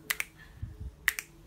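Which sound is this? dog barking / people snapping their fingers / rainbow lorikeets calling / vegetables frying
people snapping their fingers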